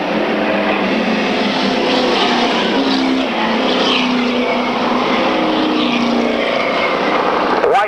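Several race cars roar around an oval during a 1995 consolation round, their engines forming a steady, loud drone with gradual pitch shifts as the pack passes, while an announcer talks over the noise.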